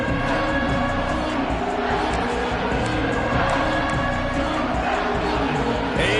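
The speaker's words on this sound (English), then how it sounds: "this crowd is ready" Stadium crowd in College Football 26 rumbling and cheering continuously at a game, a steady loud roar filling the whole stretch with no clear pauses.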